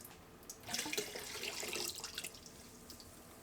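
Water drains out of a homemade egg washer, a faint gush and splash that swells after half a second, runs for about two seconds, then fades into quiet trickling.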